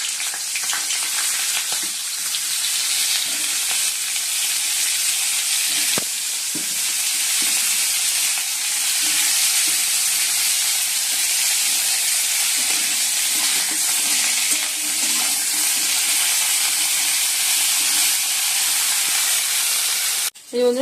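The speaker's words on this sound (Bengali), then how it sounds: "এই বন্ধুরা ফুলকপিটা ভেজে নিয়েছি আর এদিকে আলুটা ভাজছি।" Cauliflower and potatoes fry in a pan with a steady, loud broadband sizzle that runs unbroken throughout, joined by brief stirring knocks near the middle and a short clatter at the end.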